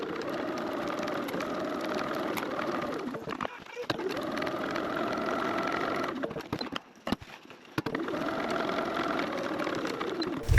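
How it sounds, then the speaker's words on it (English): A sewing machine top stitches a backpack panel in several steady runs of whirring motor hum with short pauses between them. The sound is moderately close and fairly quiet. "you can go ahead and top stitch the top"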